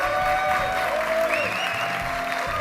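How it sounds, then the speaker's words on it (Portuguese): Applause from an audience at a talk, a steady wash of clapping that stays even and fills the room, with faint tonal noise running underneath. "Muitas palmas, pessoal."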